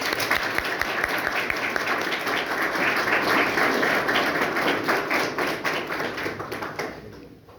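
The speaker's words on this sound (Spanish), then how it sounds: "recibamos con un fuerte aplauso al doctor." A crowd at a talk gives a doctor of government and public policy a hearty round of applause, dense and steady for several seconds before thinning out and fading near the end.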